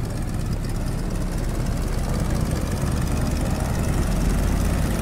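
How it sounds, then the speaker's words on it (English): A PT-17 Stearman biplane engine in Microsoft Flight Simulator drones steadily at full power, a loud, continuous buzzing roar with no voices. "Again, really liking the engine sounds from the aircraft."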